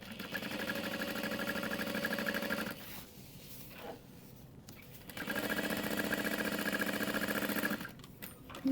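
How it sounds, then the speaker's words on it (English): A sewing machine bastes the top edges of handbag pieces together, running in two steady bursts of rapid, close stitching separated by a short pause, with a brief resumption at the end. "I am going to line up the top edges and just baste it together."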